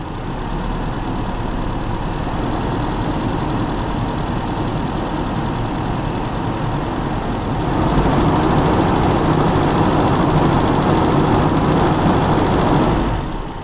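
Engine of a Toyota Kijang revving up as the throttle is pulled, a steady idle-like drone that swells louder and fuller partway through, then holds before dropping at the end; close and continuous, no talk.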